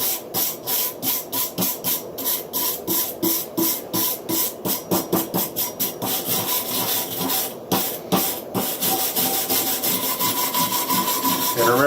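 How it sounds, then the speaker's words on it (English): A wire brush scrubs rust off a metal part after an Evapo-Rust soak, a fast rhythmic back-and-forth scratching, close and loud, steady for the whole stretch with no talk. "we'll give it a quick little wire brushing, see how it did."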